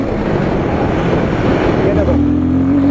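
A Royal Enfield Guerrilla 450 motorcycle pulls hard in second gear on a road while overtaking a car, its engine note a loud, continuous drone buried in heavy wind rush, the pitch rising near the end.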